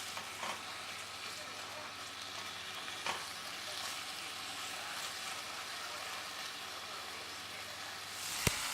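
Okra fries in a pan over a fairly high flame, giving a continuous, even sizzle with a few sharp utensil knocks against the pan.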